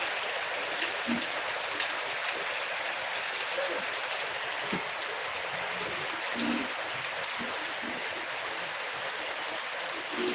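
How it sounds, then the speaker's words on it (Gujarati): Steady, dense rain pours down with a constant wash of noise and scattered drops, no voices, continuous throughout. "ધોધમાર લાઈવ વરસાદ"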